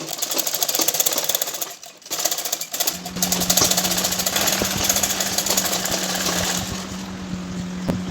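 A sewing machine stitches piping and cord onto a 42-inch blouse in loud, fast mechanical rattling bursts, with a short pause before a long continuous run of stitching.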